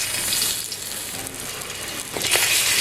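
Eggs fry in hot oil in an iron kadhai, giving a steady, close, broadband sizzle and crackle that carries on without pause or voices.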